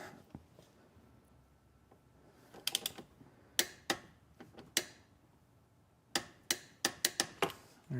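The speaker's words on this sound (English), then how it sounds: "got our torque wrench out." A torque wrench clicks while bolting in a swivel seat, with sharp mechanical clicks arriving in quick bursts, sparse at first and then clustered, close and fairly loud against a quiet background.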